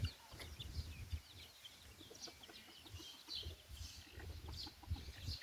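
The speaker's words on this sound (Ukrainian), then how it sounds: "Ці півники так красиво співають" Roosters and hens cluck and call faintly in the distance over a busy farmyard background, with several overlapping bird voices.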